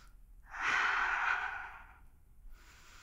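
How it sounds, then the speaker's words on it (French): A single deep breath drawn and slowly released while holding a power yoga pose, a soft, close, airy swell lasting about a second and a half, then a faint trailing exhale. "Encore 2 respirations comme ça."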